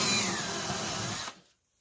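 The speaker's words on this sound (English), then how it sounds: "I'm going to drill the rivets out and go ahead and pop these other two hatches off" A power drill bores out rivets on the aluminum rear deck of a jon boat, a steady loud whine that runs for over a second and then cuts off into silence.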